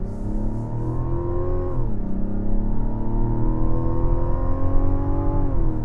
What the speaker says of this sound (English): let's go ahead and start accelerating behind this Titan